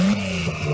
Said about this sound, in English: rev your engine.